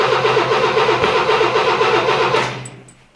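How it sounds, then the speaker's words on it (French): A Renault Trafic van engine runs loud and steady with a harmonic drone under a rattly, even rhythm, then cuts off abruptly about two and a half seconds in, leaving near silence with a couple of faint ticks. "Logiquement il tourne, on va le faire tourner"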